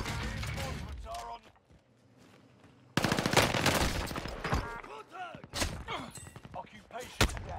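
Call of Duty Warzone gunfire on Rebirth Island comes as loud bursts of automatic fire and sharp single shots in clusters, with gaps of quieter game ambience between them.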